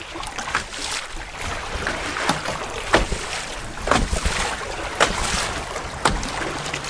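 Canoe paddle strokes on a cold, breezy open lake, a soft rhythmic splash roughly once a second over steady wind rush and lapping water, with no talk.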